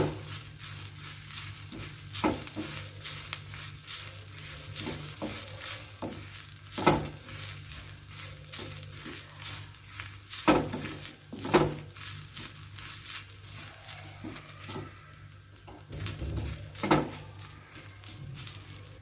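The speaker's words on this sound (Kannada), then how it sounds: "ನಾನು ಇದಕ್ಕೆ ಒಂದು ನಾಲ್ಕು ಐದು ದೊಡ್ಡ ಚಮಚ ಆಗುವಷ್ಟು ತೆಂಗಿನ ಪುಡಿನ ಹಾಕಿಬಿಟ್ಟು ಹುರ್ಕೋತಾ ಇದ್ದೀನಿ" Dal, coriander seeds and coconut powder dry roasting in a pan for Karnataka-style rasam, a continuous close scratching and rustling as the mix is stirred, with occasional louder scrapes and no talking.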